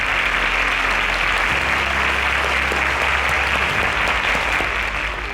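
Steady, loud applause from a studio audience at a televised school quiz grand finale, dense clapping sustained evenly from start to end with no talking over it.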